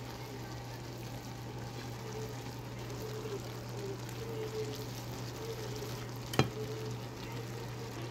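Instant ramen noodles with vegetables being stirred in a frying pan, a steady soft sizzle and scraping throughout with a low constant hum beneath and one sharp clack near the end.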